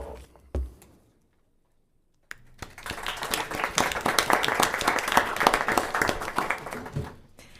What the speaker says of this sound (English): We were waiting for somebody to start clapping.